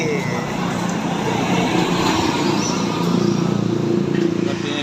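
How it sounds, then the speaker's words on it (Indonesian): An intercity bus on a road at night, bound for Aceh, passes as a steady, loud roar of engine and tyres that fills the whole stretch with constant traffic rumble. "Di belakang Kurnia disusul bus"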